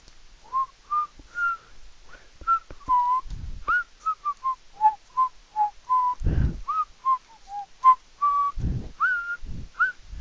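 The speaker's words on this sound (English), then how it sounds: "I'm a very crappy whistler" One person whistles a simple melody up close, a string of short, breathy notes with small pitch slides. Soft thumps and breaths fall between phrases, and nobody speaks.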